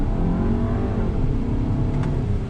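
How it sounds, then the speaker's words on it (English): A 2019 VW Passat SE R-Line pulls through a roll-on throttle acceleration, its engine note steady and loud from inside the cabin with a continuous low drone and road noise throughout. "let me do a little bit of an acceleration test here from a roll on throttle"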